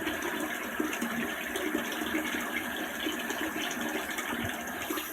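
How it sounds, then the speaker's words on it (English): Water runs steadily from a bathroom sink tap, a continuous hiss and splash held at an even level for several seconds, close by with no talking. "Let me turn the sink off so we can concentrate."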